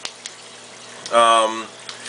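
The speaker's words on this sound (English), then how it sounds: "So here are my two skimmers." Two reef tank protein skimmers run in a sump, giving a steady close bubbling and watery hiss, with a voice briefly heard over it.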